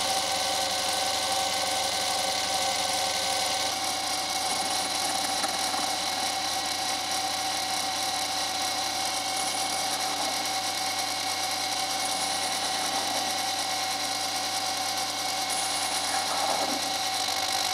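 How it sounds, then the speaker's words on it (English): An Emco Unimat SL mini lathe taking facing passes on brass stock held in the chuck, a steady motor whine and hum running continuously with faint cutting scrapes, close and fairly even throughout. "Now I take a few facing passes on the brass stock in the chuck."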